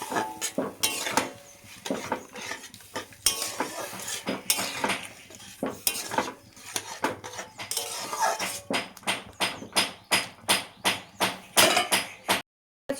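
A spoon clatters against a metal pot while fried bitter gourd is stirred into dal cooked with drumstick stalks, with repeated sharp scraping clinks that grow quicker and more regular toward the end, close and loud, with no voices.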